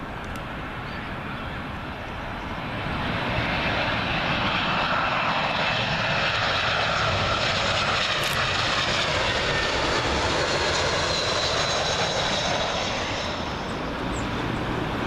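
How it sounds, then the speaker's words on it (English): An SAS Airbus A320 in from Oslo on final approach to Heathrow runway 27L, its jet engines swelling into a loud close roar overhead with a shifting whine, then easing slightly as it passes; no one speaks. "another SAS A320, standard version this time, but this one from Oslo"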